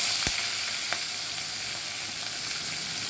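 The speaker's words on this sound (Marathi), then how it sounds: "कढीपत्ता, शेंगदाणे, मिरची टाकते, शिमला मिरची," Curry leaves, peanuts, green chilli and capsicum frying in hot oil in a pan, a loud continuous sizzle with a sharp crackle near the start, close by and without speech.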